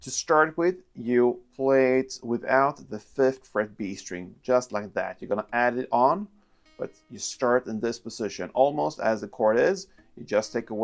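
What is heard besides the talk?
No everyday noises stand out.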